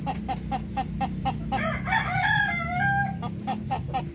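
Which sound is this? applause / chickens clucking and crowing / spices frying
chickens clucking and crowing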